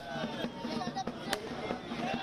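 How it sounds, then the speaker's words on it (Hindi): Firecrackers burst during a party celebration outside the BJP office in Jaipur, Rajasthan, with several sharp cracks and pops scattered over a busy crowd din and voices. "बीजेपी के कार्यकर्ता जश्न मनाते हुए, पटाखे फोड़ते हुए"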